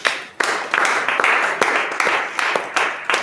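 A church congregation claps during a worship service, sharp broadband claps arriving in a roughly steady rhythm at close range, with faint background noise between them.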